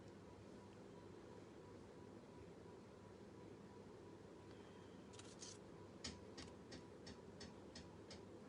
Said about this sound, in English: Hear my fan ticking over.